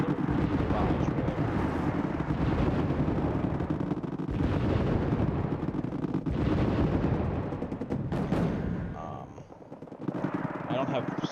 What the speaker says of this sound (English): they push forward again, and there's another barrage